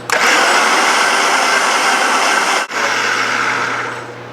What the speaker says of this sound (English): So I blend it a few times to make sure the garlic is really incorporated well.